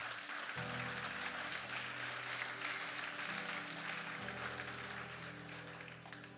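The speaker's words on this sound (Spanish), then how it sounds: "Vamos a un aplauso al Señor." A church congregation applauds: a dense, even wash of clapping from many hands that holds steady, then slowly fades, with organ-like tones sustained underneath.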